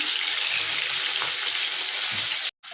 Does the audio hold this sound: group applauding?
no